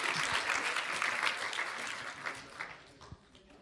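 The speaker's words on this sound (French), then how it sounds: "On peut l'applaudir." A live audience applauds a candidate at a university rector election debate, a full burst of clapping that gradually thins and fades toward a few scattered claps.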